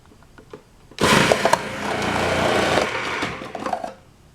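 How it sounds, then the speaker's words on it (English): A food processor grates zucchini halves pushed down its feed tube, a loud, dense grinding roar that starts abruptly, runs steadily for about three seconds, then cuts off, with no talking. "You put the zucchini halves into the feeding tube of the food processor."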